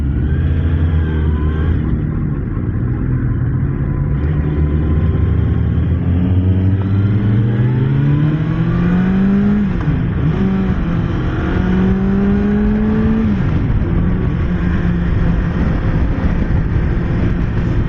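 A Kawasaki Ninja ZX-6R sport motorcycle engine revs hard and climbs through the gears, its pitch rising in repeated sweeps with shifts between, loud and close throughout.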